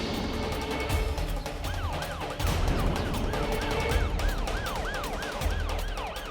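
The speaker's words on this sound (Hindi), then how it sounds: "पुलिस की गाड़ी," A police siren wails over a busy, noisy scene, its rising and falling tone repeating steadily from start to finish.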